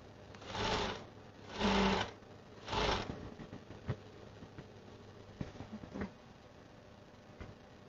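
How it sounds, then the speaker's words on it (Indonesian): A sewing machine runs in three short stitching bursts as it sews beneath elastic on a child's dress, then gives scattered light ticks and clicks from the needle and presser foot, close up with no talk. "Kita jahit bawah getah eh."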